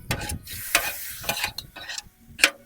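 Ramen noodles frying with teriyaki sauce in a hot pan, stirred in quick scraping strokes over a soft steady sizzle, close and irregular with no talk.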